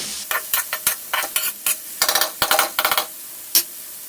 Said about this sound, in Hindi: बंद गोभी और गाजर हमारी फ्राई हो चुकी हैं।